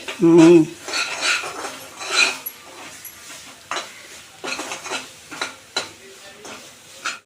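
Onion paste being stirred and fried in a pan for Andhra-style cluster bean fry, with bursts of scraping and clinking from a utensil over a soft sizzle, close and moderately loud, a few strokes in uneven rhythm.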